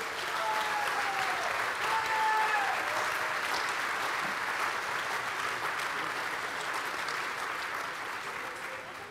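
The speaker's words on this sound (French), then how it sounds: "c'est splendide, applaudissez-les." An audience applauds ambassador families on stage at the Téléthon 2024 launch, sustained clapping from a large crowd that holds steady and slowly eases off, with faint voices or tones drifting beneath.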